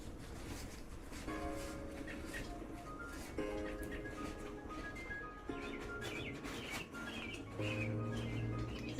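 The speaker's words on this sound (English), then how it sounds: "Just the bird song." Bird song rings out as repeated melodic chirps and whistled phrases in steady bursts, heard alone at moderate level.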